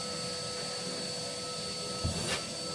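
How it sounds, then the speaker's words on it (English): Vacuum cleaner hoovering up ash around a Purevision BPVR cylinder stove, a steady loud motor whine and rushing airflow with a brief bump near the end, no talking. "I'll just hoover myself up because I don't want to stand up and make a mess"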